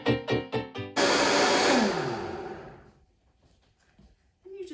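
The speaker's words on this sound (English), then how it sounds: "I'm going to put it in the blender so that I can get a quick" A Vitamix blender whips a hot, steaming pumpkin spice latte mixture into foam, starting with a loud whirring roar that slowly fades out, after a few short mechanical pulses and before a brief voice.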